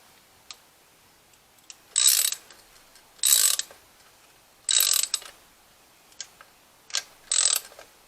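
A ratchet tightens the nuts holding down a carburetor over a fitted gasket, sounding as five or six short, close bursts of rapid clicking separated by pauses in an otherwise quiet room.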